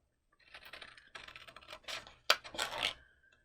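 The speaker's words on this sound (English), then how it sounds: "next we are going to cut out our feathers" Scissors cutting paper feathers with a scalloped edge, giving quiet close snips and rustling paper in irregular short bursts with brief pauses.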